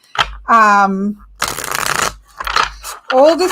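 A first tarot card deck being shuffled close up, giving bursts of riffling and flicking card noise with pauses between shuffles; no one speaks.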